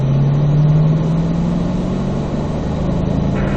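A Corvette accelerates hard through turn 7 in third gear on a race track, a loud close in-car engine drone with a steady rising pitch.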